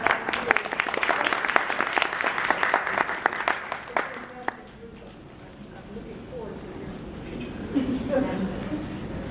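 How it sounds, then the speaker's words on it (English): An audience at a university presentation claps for about four seconds in sharp, distinct slaps, then the applause fades out and voices take over, with a few scattered claps returning near the end. "A big round of applause to all of our"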